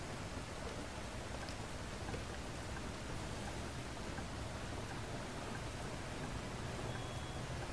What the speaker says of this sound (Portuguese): Em cima de noite, com chuva, nem se vê nada.